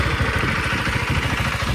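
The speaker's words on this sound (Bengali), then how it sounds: "চলো বন্ধুরা, বাইকটা এবার একটু স্টার্ট করে নিই।" A KTM Adventure 390X single-cylinder motorcycle with an underbelly exhaust, running with a steady rapid throbbing pulse just after starting, close and loud, with no talking.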